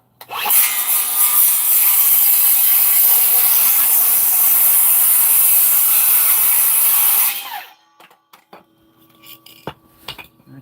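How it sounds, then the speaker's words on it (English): A hand saw cuts through a wooden fascia board outdoors, giving a loud, steady, continuous rasp for about seven seconds before stopping abruptly, followed by faint clicks and handling noise. "We'll cut that off."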